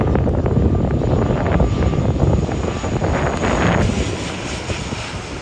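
A large airliner descends to land at an airport in Nepal, its engines roaring loud and steady and swelling slightly near the end, with no talking.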